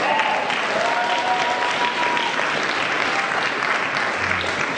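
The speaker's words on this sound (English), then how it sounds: "That deserves a round of applause." Church congregation breaking into a round of applause during a sermon, a steady dense wash of clapping holding at even loudness throughout, with faint voices underneath.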